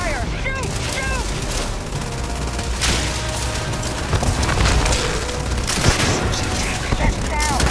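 Gunfire in Starfield, a sustained loud barrage of rapid shots and heavy booms mixed with chirping electronic effects, continuing throughout with voices shouting over it.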